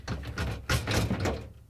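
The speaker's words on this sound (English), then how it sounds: "I'm going to slide it in slightly on the side and then in, and I can slide it in." A Samsung refrigerator drawer is slid into place during a defrost heater repair, producing a few soft sliding thuds and bumps over about a second and a half, close and moderately loud, with no talking.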